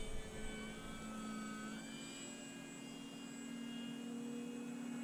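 Husky 1800 model airplane flying a presentation pass with flaps fully down, a continuous engine drone that holds steady and shifts slightly in pitch as it goes by, with no talk.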